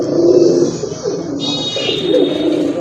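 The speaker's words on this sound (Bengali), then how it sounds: "খুব ভালো ডাকে কবুতর" A Rajgolla giribaz racer pigeon coos close up, a soft rolling throaty coo repeated over a faint high background hiss.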